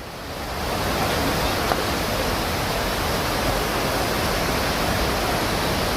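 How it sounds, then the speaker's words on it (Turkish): Homurlu waterfall in Adana, a loud, continuous broadband roar of falling water that swells in over the first second and then holds steady and close. "Homurlu Şelalesi."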